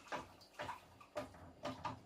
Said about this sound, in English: You've just poured boiling water into it.